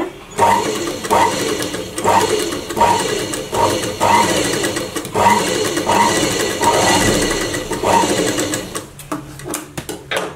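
A tailoring sewing machine with an upper-thread stitching problem runs steadily and loudly up close, its needle mechanism thumping in a fast regular rhythm for most of the stretch before slowing and stopping near the end.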